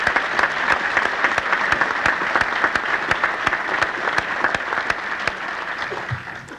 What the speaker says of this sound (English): Please join me in giving all of our club leaders a very enthusiastic round of applause.